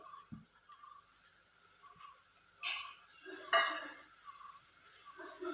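A lid goes onto a pot of prawn thoran, with a couple of brief metallic clinks and clatters standing out over a quiet, faintly hissing kitchen background, and no one speaking.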